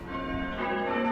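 Church bells ringing, a continuous wash of overlapping resonant tones that hum evenly and fairly softly for a brief moment, with no voices.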